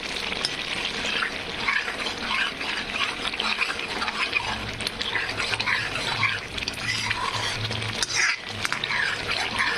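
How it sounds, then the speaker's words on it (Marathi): Gravy for a chana dal amti fries in a pan, a dense, loud, continuous bubbling sizzle with a watery, spattering texture that runs nonstop from start to finish. "खूप छान असे ग्रेव्ही पूर्णपणे फ्राय होत आहे"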